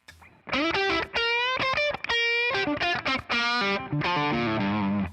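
Gritty, distorted electric guitar on the bridge pickup through a distortion pedal, playing a short melodic phrase with sustained, buzzy notes and a chorused, saturated tone.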